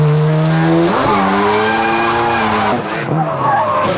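A high-horsepower rear-wheel-drive drift car's engine howls as tires squeal in a long, loud skid, the pitch dipping and rising as it slides sideways.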